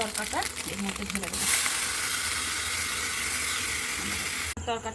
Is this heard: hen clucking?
no